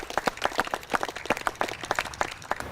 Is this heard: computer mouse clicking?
no